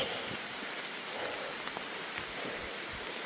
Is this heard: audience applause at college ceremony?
no